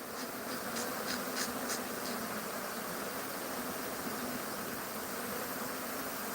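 A swarm of Africanized bees in cold mountain country gives off a steady, dense buzzing hum that holds at one level throughout, with faint higher whirring notes rising over it.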